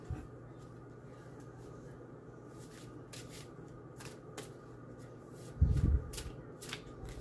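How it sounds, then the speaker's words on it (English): A deck of oracle cards shuffled by hand, soft papery slides and flicks in uneven bursts, close and quiet, with a low thump partway through and no talking. "I have my Oracle deck here. And I'm going to choose some cards for y'all."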